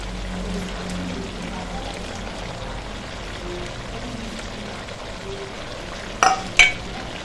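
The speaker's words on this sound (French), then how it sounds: "notre porc épic a déjà bien mijoté. On va remuer." A simmering porcupine stew is stirred in a pot, giving a steady low bubbling and scraping murmur, then two sharp clinks of the spoon against the pot near the end.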